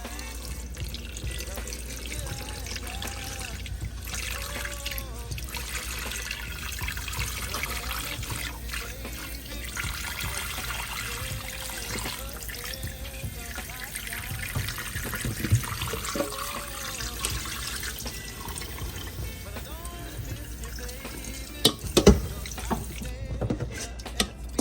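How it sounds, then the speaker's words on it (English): A kitchen sink tap runs steadily for a long stretch while raw chicken is rinsed under it, with soft trickling and splashing that grows a little busier toward the end. "add some water, rinse it off real quick"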